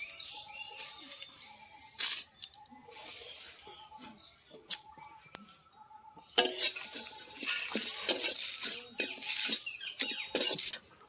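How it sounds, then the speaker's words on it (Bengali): Whole spices—coriander seeds, two dried red chillies, a bay leaf, cumin, radhuni and garam masala—dry-roasted in an empty pan, with repeated scraping and stirring of a metal utensil, faint at first and then louder and busier toward the end. "এটা এখন আমি শুকনো খোলায় ভেজে নিব।"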